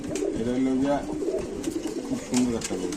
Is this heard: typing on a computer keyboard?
no